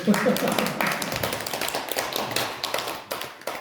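Congregation clapping in a church during a revival service, a dense patter of many hands close by with a voice speaking over it.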